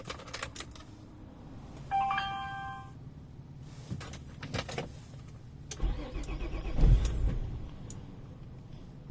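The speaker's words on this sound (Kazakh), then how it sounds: "Қазір оталдырып көрем." A Nissan Maxima A32, cold after sitting, cranks with a clatter of rapid clicks and then catches with a low engine rumble that swells briefly, faint and without any voice.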